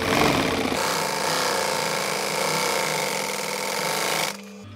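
A sewing machine runs steadily for about four seconds, stitching the fabric cover of a camper cushion, a close, continuous mechanical whir that stops abruptly near the end.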